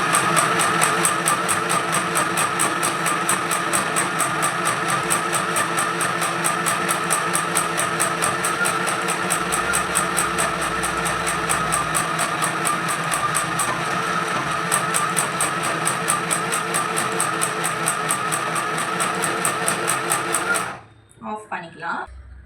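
An electric sewing machine stitches cloth with a fast, steady, rhythmic whirring clatter that runs for about twenty seconds before stopping abruptly, with a person talking alongside.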